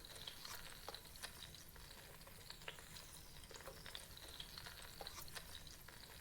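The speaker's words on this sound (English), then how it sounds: "Add minced shallots and crushed ginger garlic." Shallots, ginger and garlic fry in the cooking game Venba, heard as a steady, fairly quiet sizzle with faint crackles and light stirring taps running throughout.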